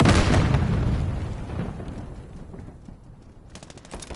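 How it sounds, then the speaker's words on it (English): A grenade blast and gunfire in the video game Call of Duty Modern Warfare: a heavy close boom with rattling shots that fade over several seconds, and a brief burst of fire near the end. "Grenade out!"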